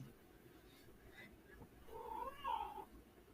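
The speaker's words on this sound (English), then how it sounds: "He's meowing his little heart out." A cat meows in the background, a faint, drawn-out wavering cry that rises near the end, heard alone over a quiet room.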